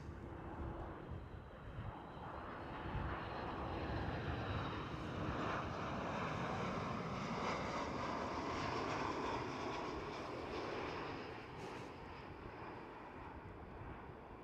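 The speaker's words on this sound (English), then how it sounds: "Lots of Polish Airlines with a 737 MAX." A LOT Polish Airlines Boeing 737 MAX roars steadily at Amsterdam Schiphol, a broad sustained jet rumble holding loud and near for the whole stretch before easing slightly at the end.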